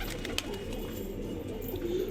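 Pigeons coo in low, murmuring calls after being let out in the morning, a steady soft cooing that carries throughout with faint background noise.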